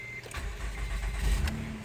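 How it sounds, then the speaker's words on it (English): A 2012 Honda Odyssey engine cranks and starts after key programming, a brief starter whir catching into a steady low idle, close and moderately loud, with a short beep near the start. "And the car is on."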